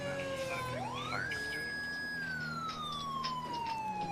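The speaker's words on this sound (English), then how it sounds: "Full light sirens." A police car siren in a video game wails, its pitch sweeping upward and then sliding slowly down, steady and fairly close, with no talking.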